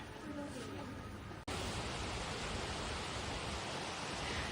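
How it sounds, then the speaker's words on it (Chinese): A distant waterfall on a mountain path in Laos sends up a steady, broad rushing roar that fills the air after a brief stretch of faint voices. "你们有听到瀑布的声音吗？"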